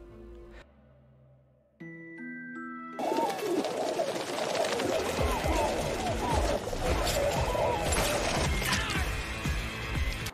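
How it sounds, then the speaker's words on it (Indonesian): A flock of pigeons coos and flaps its wings in a Korean mafia drama scene. The sound rises to a dense, continuous rustling and cooing that follows a few sustained musical tones at the start. "Karena ada sekelompok burung merpati yang menyerang para bawahan Carlo"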